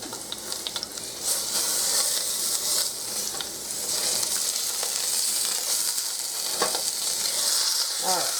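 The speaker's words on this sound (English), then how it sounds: "Might have to just hold it there a little bit, just to sear it up a little." A bone-in sirloin pork roast sears in a hot pan, giving off a loud continuous sizzle and hiss with occasional spatters and a few light scraping knocks near the end.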